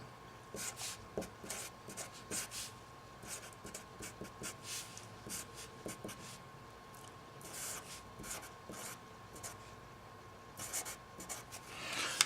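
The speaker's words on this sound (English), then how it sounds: "I'm just going to copy it down again on my new piece of paper" Pen scratching across a fresh sheet of paper while a maths problem is copied out, steady bursts of close, soft writing strokes with short pauses, mostly alone with little talk.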